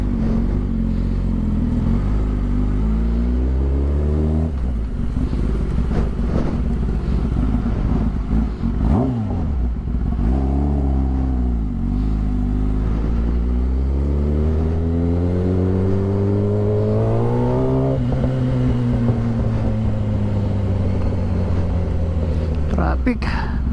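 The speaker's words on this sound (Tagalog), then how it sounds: "Traffic." Road traffic with cars and motorcycles passing, engines revving and rising in pitch, heard steadily from inside a moving vehicle with people talking over it.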